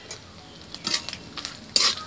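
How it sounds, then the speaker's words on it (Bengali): Coconut fries in an iron wok over a wood fire, with a soft sizzle under short metallic scrapes and clinks of a spatula, the loudest one near the end. "নারকেল আমার ভাজা হয়ে যাচ্ছে"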